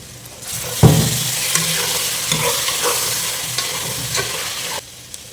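Green chilies sizzle in hot oil in a pan for a mutton and potato gravy, with a sharp clatter of stirring near the start and steady frying crackle throughout, close and moderately loud, no voices.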